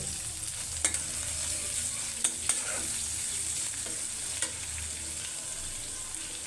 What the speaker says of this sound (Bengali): তেল গরম হয়ে গেছে কটা পেঁয়াজ দিয়ে দিল